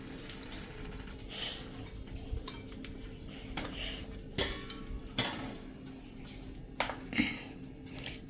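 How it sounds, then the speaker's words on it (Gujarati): Soft clinks and light metallic taps sound as an idli steamer stand is lifted out of the pot once the gas is off, with scattered knocks over a low, steady room hum. "તો હવે આપણે ગેસ બંધ કરી દેશું અને સ્ટેન્ડને બહાર લઈ લેશું."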